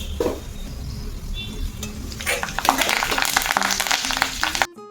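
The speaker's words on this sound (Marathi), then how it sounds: "जिरे तडतडले की त्याच्यात थोडा कढीपत्ता टाकू." Cumin seeds and curry leaves hit hot oil in a kadhai for a misal rassa: a quieter hiss at first, then a dense, loud crackling sizzle that builds and cuts off abruptly.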